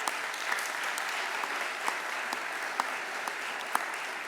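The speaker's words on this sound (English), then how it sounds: "Let's give them a round of applause." Applause from an award ceremony audience, a fairly quiet, steady patter of many hands heard from a distance, with a few sharper claps standing out.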